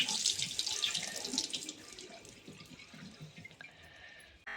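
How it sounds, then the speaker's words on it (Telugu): Tap water runs steadily into a kitchen sink while food is washed, a close splashing rush that thins out toward the end with a few small clatters. "మళ్ళీ ఇప్పుడు ఒకసారి కడుగుతుంది"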